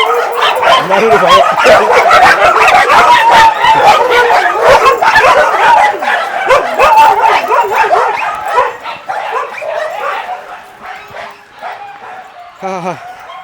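Several dogs bark and yip over and over, loud and close, with people talking in the mix, in Perunad; the commotion thins out toward the end.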